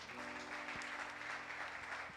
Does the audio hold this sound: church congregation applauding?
yes